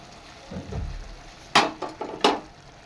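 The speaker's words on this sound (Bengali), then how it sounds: "পোস্ত বাটাটা দেওয়ার পরে ভালোভাবে নেড়ে ছেড়ে নেবে" Potato and ridge gourd being stirred with poppy seed paste in a pan, with a soft scrape and then three or four sharp close clinks of a spatula against the pan.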